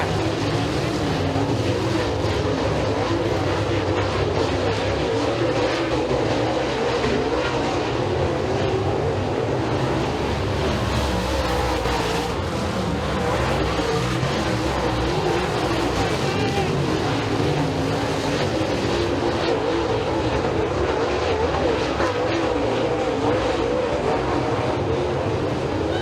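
Super late model race cars roar around the Eriez Speedway oval during a heat race, a thick, continuous engine drone that swells and fades as the pack passes, with an announcer's voice faintly under the noise.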